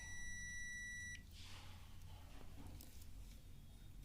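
An HTC CM2016 clamp meter gives a continuity beep while testing a 47 ohm resistor: a steady, bright electronic tone lasting about a second, then stopping and leaving low background hiss.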